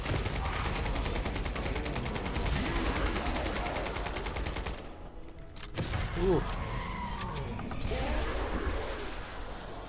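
Rapid bursts of gunfire in the survival video game EOE Survival, with repeated shots crackling over game noise and people talking.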